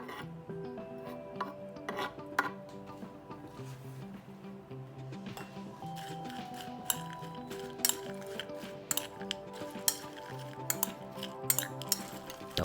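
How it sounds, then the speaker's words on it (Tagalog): Crispy tofu tossed with onion and mini peppers in a bowl, producing steady soft scraping and clinking of a utensil against the dish, close and moderately quiet, with no one talking. "mimix na natin yung ating tofu, yung malutong na tofu. Lalagyan natin siya ng sibuyas, tapos yung mini pepper"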